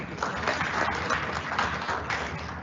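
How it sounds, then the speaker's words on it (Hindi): An audience at a school Founder's Day celebration at Sainik School Rewari applauds performers and a music teacher, giving dense, continuous clapping that fills the hall at a steady, fairly loud level throughout. "श्री गौरव उपाध्याय जी व संगीत अध्यापक श्री अनिल जी का जोरदार तालियों से स्वागत कीजिए"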